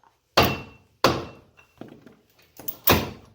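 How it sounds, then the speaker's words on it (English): Heavy metallic impacts: three loud blows of a big hammer striking a car's ring gear, with pauses between, plus a few lighter knocks, close and sharp with short ringing decays. "Need a big hammer."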